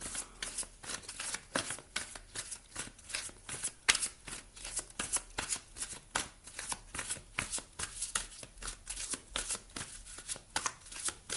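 Oracle cards being shuffled by hand in a continuous rapid rhythm of crisp riffling bursts, close and fairly loud, with no talking.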